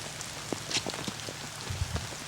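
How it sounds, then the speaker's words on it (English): Steady rain falls on a golf course during a tournament round, a dense continuous patter on wet ground with occasional louder drops, heard alone with no talk. "Where this rain just doesn't want to stop."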